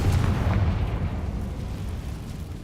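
A Confringo fire spell blasts in Hogwarts Legacy, a loud, booming burst that rolls out at the start and decays into a long, rumbling tail.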